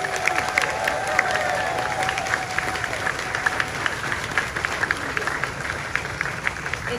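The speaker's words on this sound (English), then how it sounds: "these students another round of applause" Sustained applause and cheering from an audience at a kindergarten school concert, a dense steady wash of clapping with crowd voices mixed in, lasting throughout.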